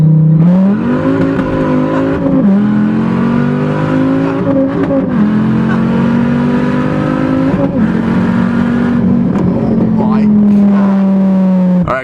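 A supercar launches hard in first gear on nitrous with traction control off, its engine roaring loud and close as the revs climb and shift repeatedly through the whole stretch, with a voice heard faintly beneath.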